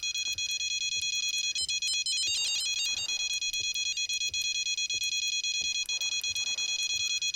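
A continuous high electronic carp bite alarm tone in the video game Fishing Planet sounds nonstop, briefly warbling into rapid beeps before settling back into a steady shrill drone.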